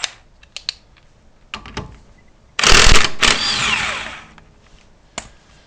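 Kobalt electric impact wrench spinning off a 17mm nut on a GY6 scooter, a couple of faint taps, then one loud buzzing rattle of about two seconds, fairly close, with no talking.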